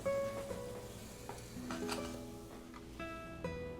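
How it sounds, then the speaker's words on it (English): Spam slices frying in a pan, a quiet sizzle with soft crackles and clinks of utensils against the pan, plus faint tonal hums in the background. "Got the Spam sizzling"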